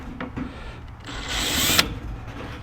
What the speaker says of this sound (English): So what I'm gonna do is I'm just gonna drill me some holes in this.